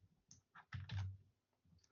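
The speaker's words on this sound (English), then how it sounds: "Why am I typing this?" Computer keyboard typing while building a web page, a few sharp close clicks in an irregular burst with quiet gaps between them.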